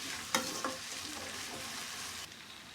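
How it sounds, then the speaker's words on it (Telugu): Carrots and onions with curry leaves fry in a pan, a steady close sizzle with a couple of sharp stirring scrapes near the start and no talking. "కరివేపాకు కూడా వేసేసి ఇది ఒక 2 నిమిషాల పాటు మనం వేయించుకున్నామండి"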